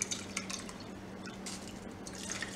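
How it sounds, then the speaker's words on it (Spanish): Water poured from a cup into a cooking pot of Cuban congri rice, a brief liquid splash with light dripping and trickling close by, no talk. "Le voy a echar un tincito más de agua, toda la que tenga"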